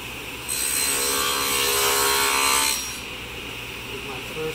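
A saw cuts a dado in olive wood, a single loud whining cut lasting about two seconds, then fading back to a low machine hum.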